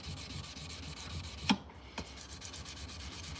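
Hand sanding with 600 grit sandpaper at a forge, a steady soft rubbing hiss that runs throughout at low level, with a brief louder scrape or knock near the middle.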